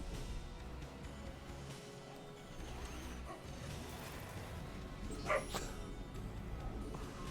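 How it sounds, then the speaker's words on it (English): A dog barks angrily somewhere in the background, faint and distant under video game sounds, with one brief sharper yelp standing out near the end. "Sorry, there's a dog angry barking at the moment."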